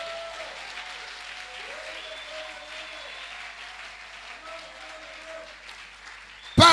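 A church congregation at a Sunday thanksgiving service applauds in steady, moderate applause under sustained keyboard tones, ending with a sudden loud burst.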